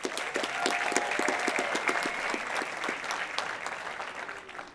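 Crowd applause at a Cornerstone Institute graduation ceremony, a dense, steady wash of many hands clapping that holds evenly throughout and tapers only slightly at the end.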